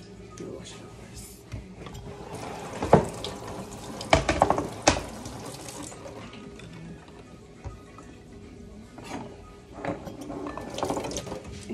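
Tap water runs into a kitchen sink while a lemon is rinsed for a crab cake sauce, a steady low wash broken by a few louder splashes and clatters, with a voice talking now and then over it.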